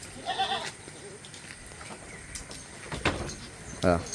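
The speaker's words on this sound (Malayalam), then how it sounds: "ആട് നല്ല പാലുള്ള ആടാണ്" A goat bleats twice, once near the start and again near the end, with insects chirping faintly in the background between the calls.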